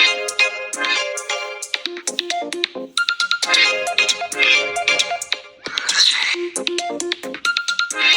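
Ringtone melody from an Oppo Reno 13 smartphone's speakers, a bright, loud chiming tune with layered notes and a brief pause near the three-second mark, playing alone without talk.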